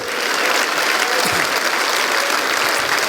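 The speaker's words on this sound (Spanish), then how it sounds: "Vamos a darle un aplauso fuerte" A church congregation applauds loudly and steadily, a dense wash of many hands clapping that fills the whole stretch without letting up.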